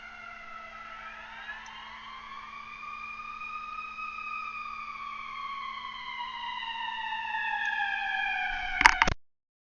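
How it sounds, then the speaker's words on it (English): A wailing siren slowly rises and falls in pitch over several seconds, growing louder before cutting off abruptly with a brief clatter. "Sirens."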